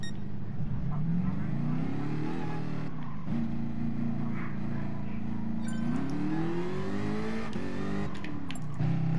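A Jaguar car engine in a racing video game hums steadily and climbs in pitch as it revs, with a couple of brief shifts, close and continuous throughout.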